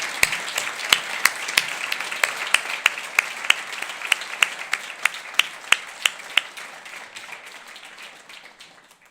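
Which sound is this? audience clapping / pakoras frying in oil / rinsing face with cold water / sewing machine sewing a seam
audience clapping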